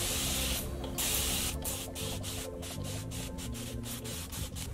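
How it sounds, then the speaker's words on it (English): A spray bottle mists leave-in conditioner onto fine 3C curly hair in a series of quick, soft spritzes at close range, one after another over a steady background hiss. "And then I'm just gonna mist my hair just to dampen it"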